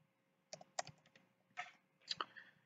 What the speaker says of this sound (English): I'm going to type in hummingbird again.